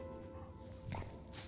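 Dog whimpering briefly in the video game The Last of Us Part 2, a single short faint whine over low game background sound.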